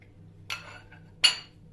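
Two clanks of a metal pot, set down or handled twice, close by in a quiet kitchen as margarine goes into it for profiterole dough.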